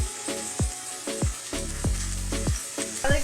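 Diced red peppers sizzling in a pan, with a steady hiss of oil under a series of sharp, repeated clacks and knocks from a utensil, close and fairly loud.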